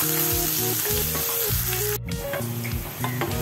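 Ginger, garlic and green chilies fry in hot oil for a spicy chicken gravy, giving a steady, loud sizzle with occasional stirring scrapes throughout.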